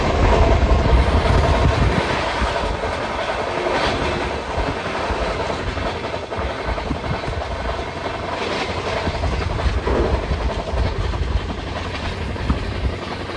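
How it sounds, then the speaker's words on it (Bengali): An express train runs fast along the Howrah–Bardhaman chord line, giving a steady, loud roar of wheels and rushing air with continuous rattling throughout, close and unbroken. "তার মাঝখানে দ্রুত গতিতে ট্রেন ছুটে চলেছে"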